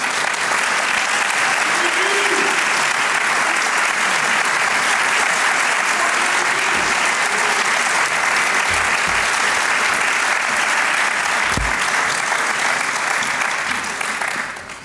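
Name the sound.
audience applause as candidates come out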